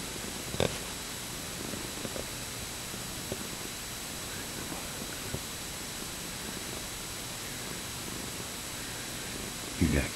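A soft, steady purr murmurs close by, with faint rustling and a couple of brief bumps; no clear talking.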